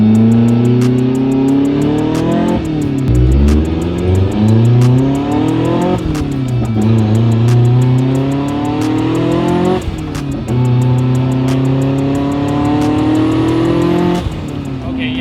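A 450 whp Hyundai Genesis accelerating hard through several gears, with loud engine revs climbing, a short drop at each shift, then rising again, heard from the cabin over about fifteen seconds.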